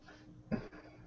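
A voice imitates a dwarf coughing during a fantasy tabletop role-play game, one short, rough cough burst near the middle, fairly faint and alone against quiet room tone.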